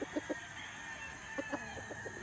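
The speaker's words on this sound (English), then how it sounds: "Well-balanced chicken, Lawrence." A rooster clucks in short, soft bursts on a farm, a few quick clucks at the start and another cluster later, moderately close over steady background noise.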